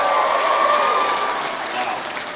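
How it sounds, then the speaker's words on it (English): Enthusiastic clapping from a comedy club audience at the Civic Center in Des Moines, Iowa, a loud sustained burst of many hands with a few cheers, tapering off slightly toward the end. "That was exciting claps."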